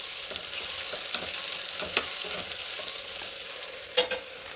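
Chopped onion, crushed garlic and two dry red chillies frying in a pan for mango dal, a continuous even sizzle with occasional spatula scrapes and clinks.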